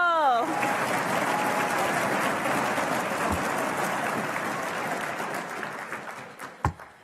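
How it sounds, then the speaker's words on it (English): A competition audience applauds, sustained clapping that holds steady, then thins and fades out toward the end, with a brief voice at the very start. "Let's give a round of applause to Evan, and thank you so much, Michael."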